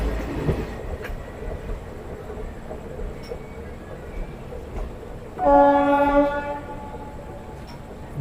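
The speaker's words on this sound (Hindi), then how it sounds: "बहुत ही स्लो स्पीड में गई है ट्रेन।" A Lalkuan–Anand Vihar intercity express moves slowly with a low rumble and rail noise, then a loud horn blast lasting about a second sounds midway, fairly close.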